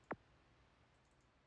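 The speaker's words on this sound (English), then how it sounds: "You guys can hear my clicking." A single sharp click from an old computer mouse, one brief isolated snap at the start, followed by quiet room hush.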